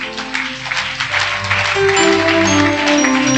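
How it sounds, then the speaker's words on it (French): An audience at a religious gathering claps loudly and steadily, the applause building and holding under sustained music or crowd tones. "Acclame très fort"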